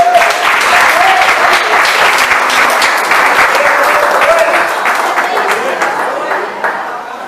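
A church congregation claps together at an anniversary service, loud and sustained with voices rising through it, gradually easing toward the end.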